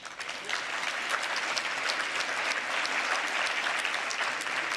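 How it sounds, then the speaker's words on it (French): An audience at a pharmacy-industry conference applauds warmly, steady dense clapping that holds at an even level throughout without letting up. "Je voudrais que vous les applaudissiez."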